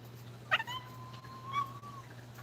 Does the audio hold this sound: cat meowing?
yes